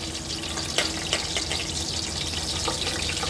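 Cinnamon, black cardamom and bay leaf fry in hot oil, giving a steady, bright sizzle with a few small crackles over three seconds and no voices.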